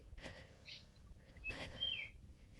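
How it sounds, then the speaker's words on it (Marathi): Morning birdsong in a Konkan forest: a few faint, brief whistled chirps and calls scattered over quiet ambient background, distant rather than close. "सकाळचं मस्त पक्ष्यांची आवाज येत आहेत बघा."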